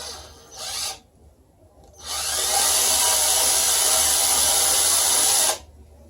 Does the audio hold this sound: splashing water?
no